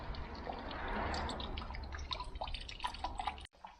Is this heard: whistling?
no